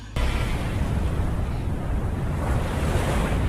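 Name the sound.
sea waves at Natuna Utara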